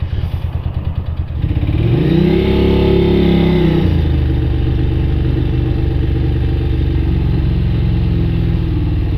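A Ducati 600 Supersport motorcycle, unridden for four or five years, accelerates under a rider, its engine note climbing and settling into a loud, steady close drone with rattling mechanical texture.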